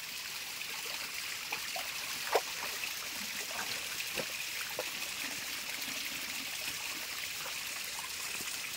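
Water trickles steadily from a well, or atabay, in a rural farming setting, a continuous faint gurgling stream with a few soft splashes and drips scattered throughout.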